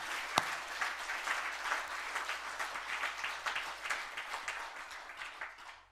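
Congregation claps together at a Christmas Day church worship service, with a steady wash of applause lasting several seconds and then tapering off.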